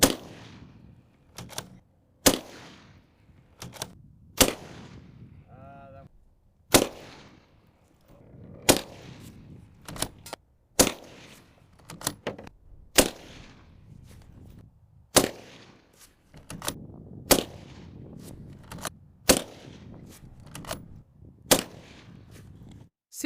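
Gunshots fired at a bulletproof vest with a Rhino Lining-type coating over an armor plate, about twenty sharp loud cracks at irregular intervals, each with a brief echo tail, with no talking in between.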